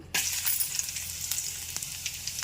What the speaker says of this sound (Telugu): ఇప్పుడు ఇగో ఎల్లుల్లిపాయలు వేస్తున్నాను